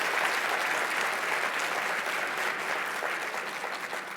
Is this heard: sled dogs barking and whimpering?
no